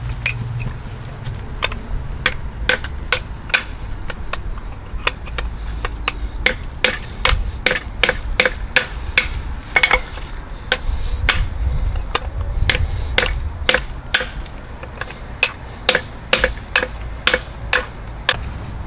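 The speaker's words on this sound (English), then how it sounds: "eventually I just hammer loosen it" Sharp metallic hammer blows ring out repeatedly on a CV joint of a 2001 Audi A6, some in quick bursts and others spaced apart, loud and close over a low background rumble.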